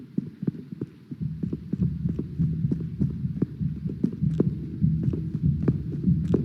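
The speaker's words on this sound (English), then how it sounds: "even my heartbeat sounds weird" A heartbeat effect from the horror game Phasmophobia throbs in a steady, quick rhythm of dull low thumps over a faint hum, close and continuous.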